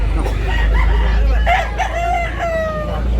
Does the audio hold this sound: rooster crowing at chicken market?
yes